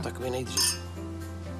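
Glasses clink in a family toast, a bright ring under ongoing talk as someone speaks over it.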